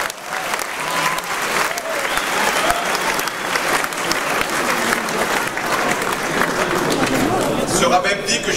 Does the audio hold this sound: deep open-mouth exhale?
no